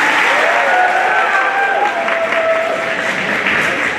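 Loud audience applause fills a high school senior awards ceremony, a dense steady clapping that eases slightly toward the end, with a few voices underneath.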